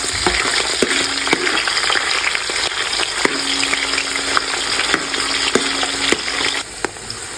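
Onions with coriander and mint fry loudly in ghee, a steady close sizzle broken by repeated scraping strokes and light taps of a spoon against the pan throughout.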